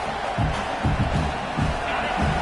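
A dense football stadium crowd roars loudly and continuously as a fourth-down play is set up, a broad wash of noise with rhythmic surging chants or stomps throughout.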